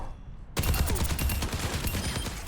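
A video game gun with heavy recoil fires rapid automatic bursts after a brief quiet moment, loud, close and continuous to the end.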